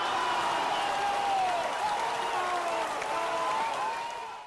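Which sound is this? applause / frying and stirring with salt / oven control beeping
applause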